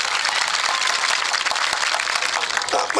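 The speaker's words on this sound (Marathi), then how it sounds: "त्या पोरींसाठी एकदा जोरदार टाळ्या द्या" Crowd applause for a girls' team at a motivational talk, a steady dense wash of clapping that holds for about three seconds, loud and continuous with no pauses.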